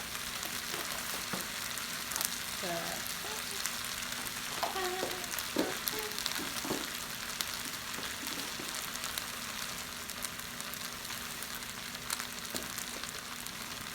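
Pineapple pieces, seasoned with salt and pepper, sizzling in a pan as they are stirred together, with a steady low frying hiss and occasional scraping clicks from the utensil, with no talk.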